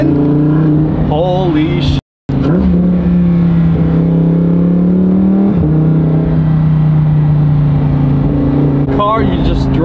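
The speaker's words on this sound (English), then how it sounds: "And the sound, the V10?" A Lamborghini Huracan EVO's V10 engine drones loud and steady, with a brief cut, a rising rev surge and shifting tones as it accelerates, while someone speaks over it.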